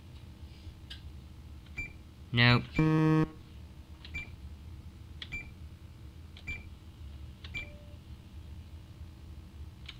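Electronic keypad beeps from an alarm panel in the game INFRA: a rapid rising run of tones, then a steady sustained beep, with a few faint scattered blips over quiet background hum.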